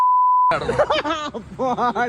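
A steady electronic censor beep sounds for half a second, then cuts straight into voices and chuckling laughter.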